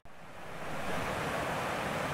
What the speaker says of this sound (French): j'ai ce ruisseau qui m'accompagne à droite